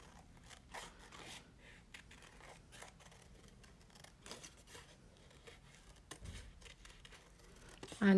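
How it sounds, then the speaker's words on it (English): Scissors snip through textured holiday card paper at a crafting table, a soft, faint run of short crisp cuts and rustles with a slightly louder bump at the end. "Let me get my scissors just a sec."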